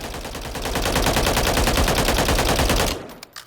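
An H&K G36K rifle in Call of Duty Modern Warfare III fires a loud, close, sustained automatic burst of evenly spaced rapid shots for about three seconds, then cuts off to a brief ring and clatter.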